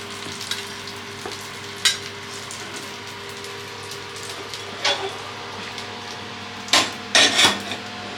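Biryani frying in a pan at home, a soft steady sizzle with occasional louder stirring scrapes and clatters, no talk.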